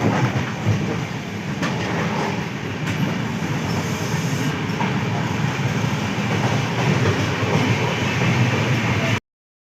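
Passenger train from Hojai to Dibrugarh heard from inside an AC coach, a continuous muffled rumble of wheels on rails with faint rhythmic clicks and occasional knocks, steady and close for the whole stretch.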